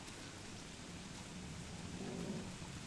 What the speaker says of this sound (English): It's frog rain.